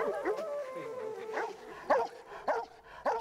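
Tibetan mastiffs giving a few short barks and yips between drawn-out whimpers and whines, irregular and close, with about four sharp bursts in the last seconds.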